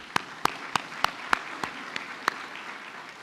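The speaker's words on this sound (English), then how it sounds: "So please give yourselves a round of applause." Banquet guests at a chamber of commerce awards dinner clap for themselves: a thin scatter of separate, sharp hand claps at an irregular rhythm over a soft room murmur, with few people joining in.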